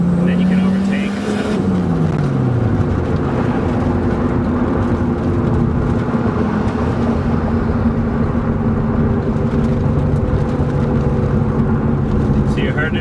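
Turbocharged BMW E30 with Megasquirt engine management accelerating on the road, a loud droning engine note rising and then holding steady, heard from inside the car with someone talking over it.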